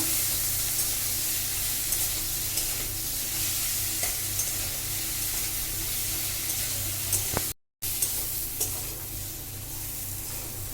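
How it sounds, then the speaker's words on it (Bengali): Bottle gourd and prawns sautéed with ginger garlic paste in a pan, a steady close sizzle with scraping stir strokes running throughout and a brief dropout near the end. "আদা রসুন দিয়ে আমি ভালো করে এটাকে কষিয়ে নিয়েছি।"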